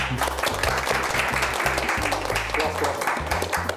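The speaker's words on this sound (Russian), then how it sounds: "И вновь звучат аплодисменты." A crowd applauds steadily throughout, the clapping blended with loud music playing underneath.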